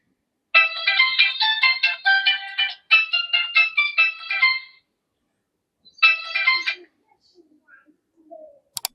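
A mobile phone ringtone plays a bright, repeating electronic melody for about four seconds, pauses briefly, then sounds again in a short burst before fading into quiet background noise.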